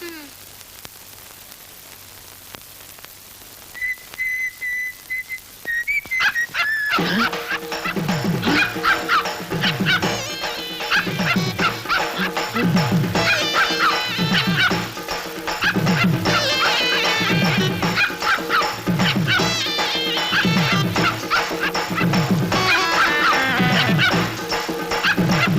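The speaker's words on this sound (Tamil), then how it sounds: "இன்னையில இருந்து நாயை அவுத்து விடு." A dog barks in rapid repeated bursts, loud and close, following a brief tone and a jump to a noisy background.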